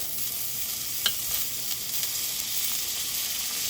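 Butter melting and sizzling around a pork chop in a pan on very low heat, giving a steady soft crackle with one brief clink, fairly quiet and alone.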